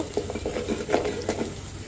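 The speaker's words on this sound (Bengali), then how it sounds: "এখানে পেঁয়াজ রসুন আর জিরা দিলাম তো একটু হালকা ব্রাউন করে ভেজে নিয়ে ডালটা ঢেলে দিব" Chopped onion, garlic and cumin fry in oil for a dal tempering, a moderate sizzle under repeated spatula stirs and light clinks of utensil on pan.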